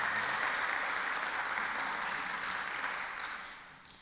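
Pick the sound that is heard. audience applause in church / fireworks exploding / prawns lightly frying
audience applause in church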